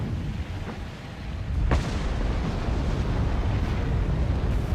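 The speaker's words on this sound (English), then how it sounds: "I think this is the wrong direction for the explosion." An explosion in the video game Rue Valley gives a sharp burst followed by a sustained loud rumbling roar that fills the scene, with no talking.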